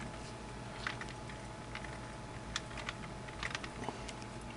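Keyboard typing in a CNC badge design session: a sparse, irregular run of soft key taps over a steady background hum, a few close together near the middle and end, fairly faint.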